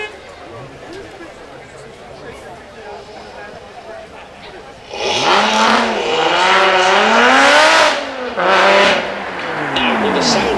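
A Lotus mid-engined sports car engine idles quietly under background noise at a supercar show, then roars loudly as it revs up and down through rising and falling pitches nearby.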